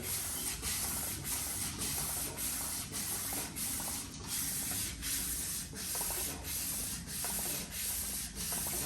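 Cylinder head being resurfaced by rubbing it across sandpaper with lubricant, a continuous rhythmic scraping with regular strokes a little under a second apart, close and steady, with no voices.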